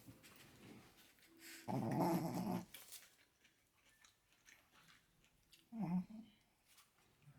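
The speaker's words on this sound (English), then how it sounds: "Hold on, my dog's calling me." A dog at home vocalizes in two short bursts, a loud whining growl-like call up close followed later by a shorter one, with quiet room sound between.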